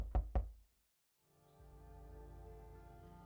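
Two quick, solid knocks land on the entrance door of a farmhouse in a Bavarian adventure video game, followed by silence and then a low, sustained ambient drone.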